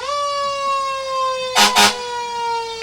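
A loud, steady fire truck siren wail at a Fourth of July parade holds one pitch throughout, broken briefly by two short bursts of broadband noise near the end.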